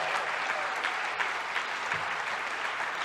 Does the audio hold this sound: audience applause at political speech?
yes